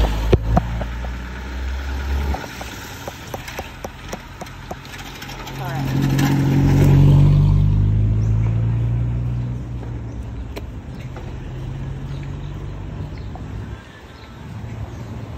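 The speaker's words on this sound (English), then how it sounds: "cars come pretty close to you." Cars pass along a road in Puerto Viejo, Costa Rica, one swelling loudly close by mid-clip and fading away, with engine hum around it and people talking nearby.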